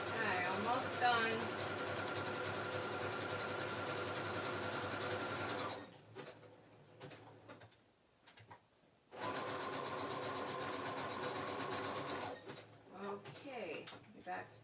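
A sewing machine stitches a junk journal with a steady close mechanical whir in two long runs separated by a pause, while a person talks quietly in the background.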